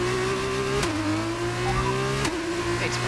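Racing car engine screaming at full throttle in a Bahrain Grand Prix, close and loud, with steady rising pitch and two quick gear shifts that briefly drop the tone before it climbs again.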